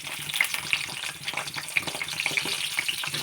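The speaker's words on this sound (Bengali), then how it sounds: "আলুটা ছেড়ে দেব।" Potatoes dropped into hot oil in a wok fry with a steady, crackling sizzle, close and continuous, with faint bubbling and no voices.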